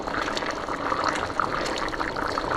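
Water poured into a pan of risotto rice, a steady close liquid pouring and bubbling sound at fairly loud level without pause, with no speech.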